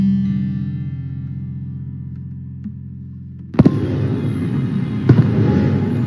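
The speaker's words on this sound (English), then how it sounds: "Oh, fireworks." In a Sonic the Hedgehog cartoon, a sustained electronic drone fades, then sharp fireworks bursts crackle and boom, with one more pop a moment later, loud and close.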